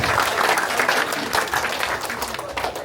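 Steady applause from a crowd at a First Holy Communion celebration in Goa, cheering a toast; dense continuous clapping fills the whole stretch, loud and close, with faint voices mixed in.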